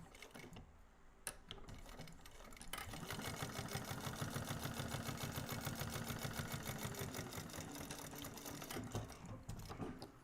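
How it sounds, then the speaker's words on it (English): A sewing machine runs close and steady, stitching rows on a fabric bag with a fast, even mechanical clatter after a few brief clicks and a short start. "we're going to do 2 rows of stitching here"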